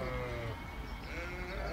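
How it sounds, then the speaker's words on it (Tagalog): Domestic sheep bleat on a farm in Saudi Arabia, several calls rising over a steady low rumble of background noise, no talk. "Ayan naman yung mga alagang tupa."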